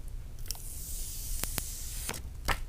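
Plastic film is peeled slowly off a new white iPhone 11, a soft crinkly hiss broken by a few sharp crackles, close up.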